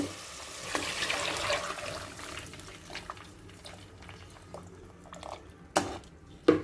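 Tamarind water pours into a pan of garlic and peanuts with a soft splash and sizzle at first, followed by quieter bubbling and a few sharp clinks near the end.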